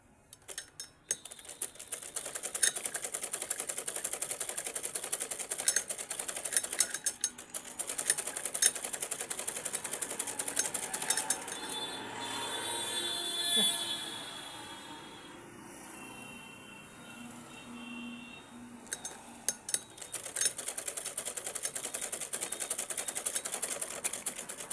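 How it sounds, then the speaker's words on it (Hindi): Sewing machine stitching fabric for a salwar hem, running in rapid clattering bursts with short pauses between runs, quiet and fairly close. "सिलाई मशीन खींच लेती है"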